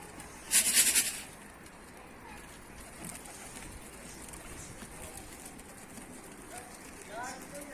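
Tumbler pigeons coo faintly amid outdoor background noise, with a sharp chirping burst near the start and people talking.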